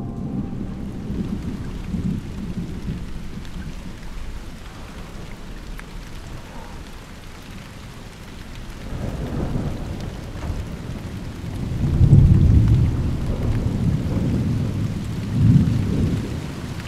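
Heavy rain pours steadily with rumbling thunder, the rolls swelling loudest near the end; no voices.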